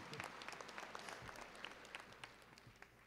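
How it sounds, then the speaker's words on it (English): Audience applause at a Department of Corrections graduation ceremony, a steady wash of many hands clapping at moderate volume through the whole stretch, with no talk over it. "give him a round of applause"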